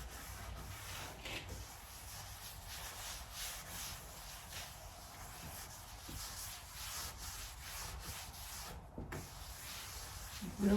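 A rag rubs stain into a white oak butcher block countertop, a soft continuous scrubbing and swishing close by with small bumps and rhythmic strokes, no talk.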